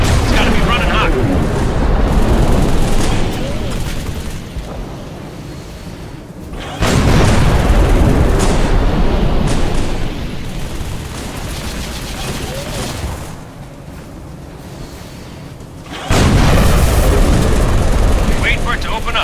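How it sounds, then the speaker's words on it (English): A plasma turret gun in Halo 3 fires in heavy bursts, loud booming volleys that swell and fade across repeated waves amid battle noise, with a voice speaking during the action. "that gun's been firing non-stop. It's gotta be running hot."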